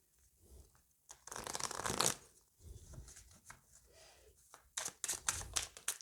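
Oracle cards being shuffled at close range, several bursts of quick riffling flutter and papery snaps with brief pauses between them, fairly quiet and with no voices.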